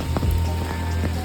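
Rain patters steadily on surfaces nearby on a rural road in Majalengka, with a few louder drips over the constant hiss.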